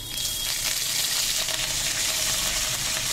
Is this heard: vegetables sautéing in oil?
yes